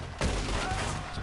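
A single loud gunshot blast in Red Dead Redemption 2 hits abruptly and rolls into a sustained, reverberant boom lasting about a second, with no speech over it.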